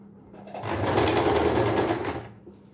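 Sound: sewing machine stitching sleeves of a night dress

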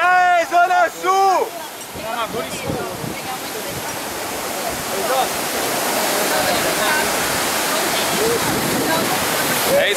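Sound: Cachoeira das Torres waterfall

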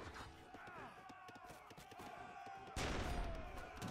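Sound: heavy cannons firing in a strategy video game

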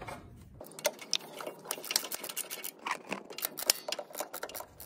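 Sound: ratchet wrench clicking while tightening fitting on Kubota mower

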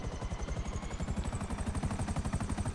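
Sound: Buzzard helicopter flying in video game GTA Online

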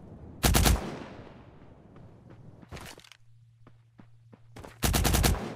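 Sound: gunfire in the video game Cyber Hunter

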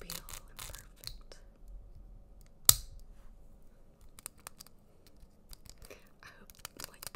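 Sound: clicking

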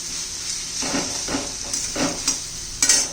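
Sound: stirring spice powders into capsicum curry in pan

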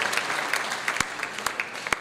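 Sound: film festival audience applauding

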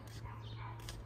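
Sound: dog barking

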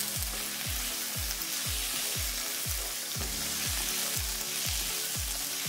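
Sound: bacon frying in a pan

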